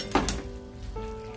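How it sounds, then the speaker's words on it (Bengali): Shankar (stingray) fish pieces added to simmering curry gravy for kalia, a quick splash and clatter followed by a soft sizzle and bubbling, close and brief with no talk. "এরপর আমি মাছগুলোকে দিয়ে দিচ্ছি। এই পুরো মাছ কিন্তু আমি দিয়ে দিলাম, দিয়ে বেশ একটু নাড়াচাড়া করে রাখবো।"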